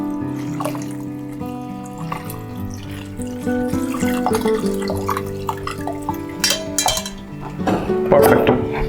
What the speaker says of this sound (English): and then rinse the noodles with some water